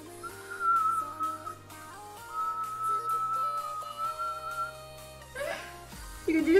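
A person whistles a sustained, wavering tune close to the mic, the thin pitched tone holding for several seconds before breaking off into brief noises.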